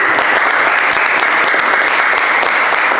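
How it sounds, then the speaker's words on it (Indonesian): Students of a class applauding a classmate, Mas Fahri, dense loud clapping that fills the room evenly throughout with no talk over it. "bisa tepuk tangan untuk Mas Fahri dulu"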